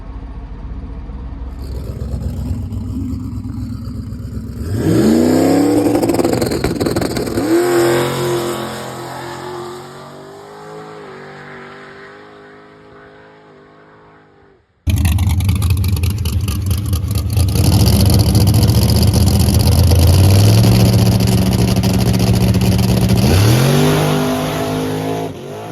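Race cars out on a racetrack during testing roar past, their engines revving hard, climbing and dropping in pitch. The sound cuts abruptly to another loud pass, with dense, continuous mechanical noise throughout.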